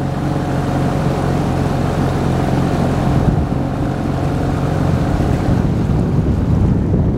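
An outboard motor drives an inflatable fishing boat with two people aboard upstream against a river current, a loud, constant droning hum up close, with wind buffeting the microphone and water rushing alongside.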